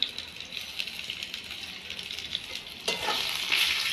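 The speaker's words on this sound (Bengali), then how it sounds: "ভালো করে কষতে হবে" Red chilli powder, turmeric and salt are sautéed in a pan, a steady close sizzle with stirring scrapes that grows louder and brighter near the end.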